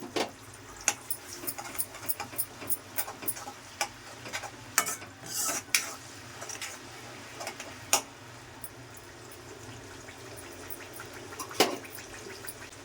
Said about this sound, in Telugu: చింతపండు అయితే గుజ్జు ఇంకా ఆయిల్లో ఇలాగే కూడిపోవాలండి కొంచెం ఆయిల్ వేసాను పల్లి ఆయిల్